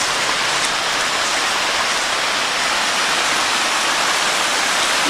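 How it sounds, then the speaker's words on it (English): Mountain stream water rushing over a series of cascades on a mine trail in Tioga County, Pennsylvania, a steady, loud broadband roar with no breaks and no voices. "Maybe there's a larger waterfall higher up"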